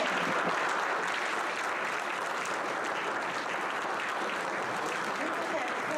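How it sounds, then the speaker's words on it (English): Sustained, dense applause from the audience at a sheriff's candidate forum, loud and even throughout with no breaks. "it is time to give an applause for these candidates."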